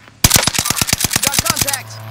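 Automatic gunfire in the video game Call of Duty: Modern Warfare: a close, loud burst of about a dozen rapid, evenly spaced shots that lasts about a second and a half and then cuts off, with no talking.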